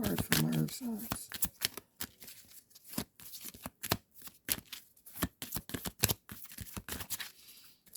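Tarot cards are shuffled and drawn by hand, giving quick riffling bursts and sharp snaps and flicks in an irregular rhythm, close up, under a voice talking.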